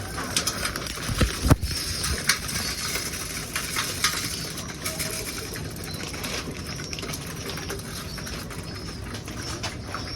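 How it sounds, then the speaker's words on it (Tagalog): Young pigeons calling outdoors with soft coos, set against a steady hiss of ambient background noise. "Okay na, may ibon dun."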